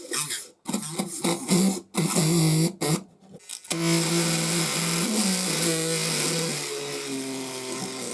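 A grinder cutting material out of a 1:32 Eagle 5 Winnebago scale model: a loud, close whine that starts and stops in short bursts, then runs steadily for several seconds, with no voices.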